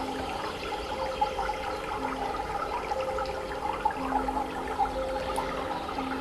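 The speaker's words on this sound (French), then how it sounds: "L'eau qui coule" Water flows steadily in a small stream at a riverbank, a continuous close rushing and trickling with no pauses and no voices.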